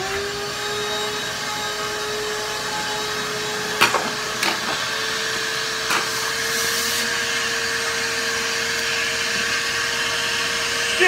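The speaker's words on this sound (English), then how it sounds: "Where's my vacuum cleaner?" A vacuum cleaner runs with a steady, loud whining drone and a constant tonal hum, interrupted by a few brief clicks and knocks, close by with no talking.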